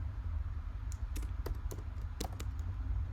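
Typing on a computer keyboard, heard as a few scattered, quick clicks over a steady low background hum, with no voices.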